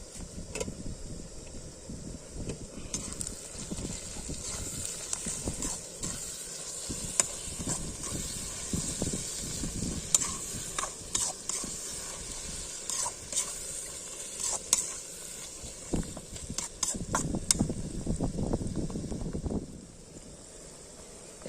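Spices (meat masala, turmeric and salt) frying in oil outdoors, stirred in a pan: a continuous hissing sizzle with frequent scraping clicks from the spoon, loud and close for about twenty seconds before fading.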